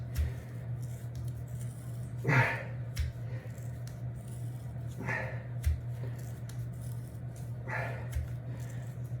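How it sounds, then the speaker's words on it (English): Heavy duty scissors straining through thick matted dreadlocked hair, three slow separate cuts spaced a few seconds apart, each a close crunchy snip over a steady low hum. "I can barely cut this. And these are pretty heavy duty scissors."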